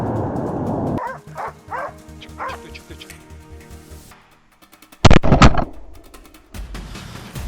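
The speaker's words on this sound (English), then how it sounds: "the sharp barks of the hunting dogs echoed loudly" Hunting dogs on a wild boar hunt bark in a quick series of yips and bow-wows. A louder, harsher burst of barking comes near the end, over background noise.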